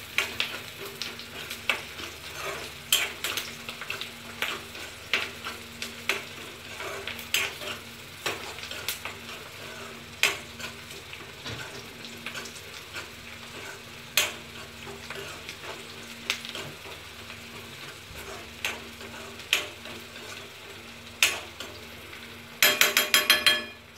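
Onions frying in oil until browned for a fish curry, a constant crackling sizzle punctuated by repeated sharp spatula scrapes and taps against the pan, ending in a rapid flurry of clinks.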